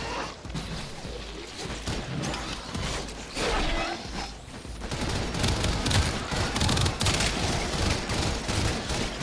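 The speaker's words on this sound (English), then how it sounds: "this Soma spits rounds out so damn fast" Rapid automatic fire from the Soma rifle in the sci-fi shooter Warframe, a dense, sustained stream of shots with booms and mechanical clatter running loud through the whole stretch.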